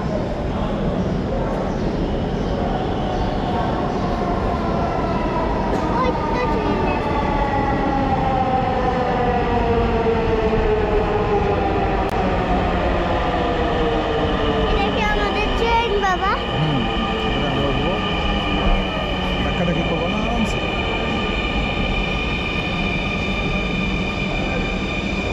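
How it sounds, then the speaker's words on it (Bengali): A metro train pulls into a station, its long gliding motor whine and wheel tones sweeping steadily downward over a continuous rumble, loud and close for the whole stretch, with faint voices nearby on the platform. "ট্রেন আমাদেরটা তো আসতেছে"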